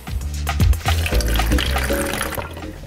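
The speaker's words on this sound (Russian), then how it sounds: "Наливаем небольшое количество воды." A small amount of water is poured into a plastic bottle holding granular garden fertilizer, making a close, gurgling splash that swells and then settles into a steady trickle.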